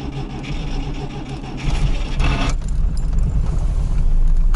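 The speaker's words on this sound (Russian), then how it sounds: "Завелся. Завелся, москвич." A Moskvich 2141 engine catches and settles into a steady, fairly quiet idle, a dense low rumble that grows slightly louder after the start, close to the car.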